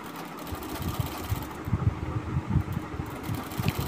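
An electric sewing machine stitches a blouse belt in a tailoring class, a close, steady low mechanical whir with rapid rhythmic needle pulses running through the whole stretch.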